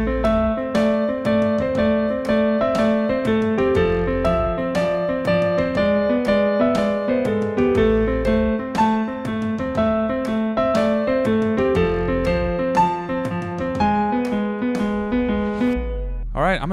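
Piano plays the verse of a song in an intermediate arrangement, a steady rhythmic pattern of low bass notes and chords, clear and close for about sixteen seconds before fading out.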